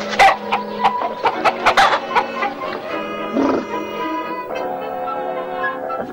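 Rooster and hens in a henhouse in an animated cartoon, with a series of loud, close clucking and crowing calls at the start that fade into quieter fowl noises.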